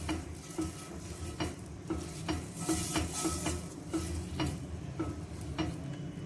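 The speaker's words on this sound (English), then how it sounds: "with this onion we'll have to grease the pan" An oil-dipped onion rubbed across a hot pan, giving a soft hiss with light rhythmic scraping strokes about every half second, close and fairly quiet.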